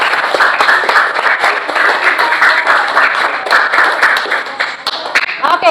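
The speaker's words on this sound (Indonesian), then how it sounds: "Tepuk tangan buat Dio." Classroom of students clapping for a classmate, a steady dense round of applause lasting several seconds, fairly loud and close, with a voice briefly heard near the end.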